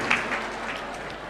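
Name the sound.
audience applause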